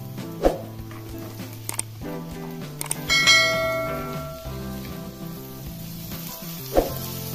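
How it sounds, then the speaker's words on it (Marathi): Onion and tomato sauté in hot oil in a pan, producing a moderate steady sizzle with a few clinks, all beneath ringing background music. "थोडासा कांदा लाल होईपर्यंत परतायचा। टोमॅटो घालायचा आहे"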